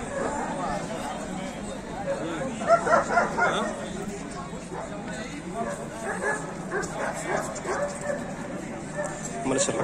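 Armant Egyptian shepherd dogs bark and yip repeatedly at an outdoor dog show, several at once in the middle distance, under a steady murmur of crowd chatter and nearby talk.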